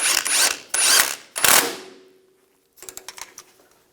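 A hand ratchet clicks in quick bursts while snugging down the nut on the center link of a 1998-2002 Lincoln Navigator, followed by a pause and a softer run of clicks close by.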